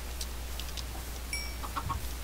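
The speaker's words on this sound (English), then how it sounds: "Chicken!" A Minecraft chicken clucks in a few short, soft bursts over a steady low background hum, with no voices over it.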